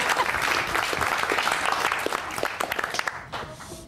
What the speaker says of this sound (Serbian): Ajmo veliki aplauz ovako.